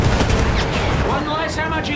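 A field gun firing amid a battle in the video game Battlefield 1, loud continuous booms and rumbling gunfire filling the scene while shouting voices cut through on top.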